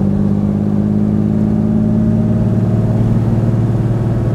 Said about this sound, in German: Und man merkt, es zieht hier im dritten Gang auch hoch.